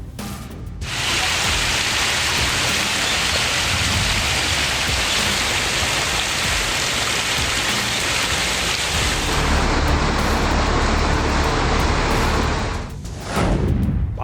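Heavy monsoon rain in Mumbai pours steadily and loudly, a dense, continuous hiss of downpour on surfaces, near and unbroken for most of the span before dropping off briefly at the end.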